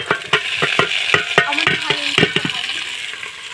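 Meat tipped into hot oil already holding browned onion, ginger and garlic for haleem sizzles and crackles steadily, with repeated sharp clicks and scrapes of a utensil stirring against the pot.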